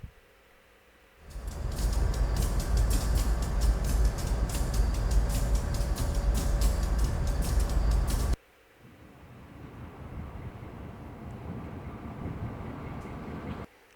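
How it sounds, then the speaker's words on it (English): Train sound effects from a sound library: a loud rumbling rail passage that starts abruptly, runs steadily for several seconds, cuts off, then a quieter rolling train layer builds again. "so that gives us a whole bunch of train elements"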